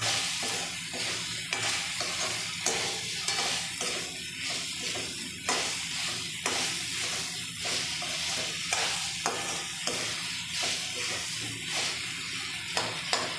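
Onion and tomato sabji sizzles in a pan, with a continuous close frying hiss and repeated rhythmic scrapes and stirs of a spoon through the pieces. Faint speech is heard in places.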